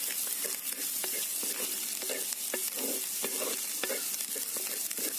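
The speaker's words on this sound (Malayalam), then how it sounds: "നന്നായിട്ടൊന്ന് വഴന്ന് കിട്ടണവരെ നമുക്കിങ്ങനെ ഇളക്കി കൊടുക്കാം" Onions and salt sautéing in a hot stone kalchatti while a spoon stirs steadily, a dense bright sizzle with regular scraping strokes repeating about twice a second throughout, close and loud, no voices.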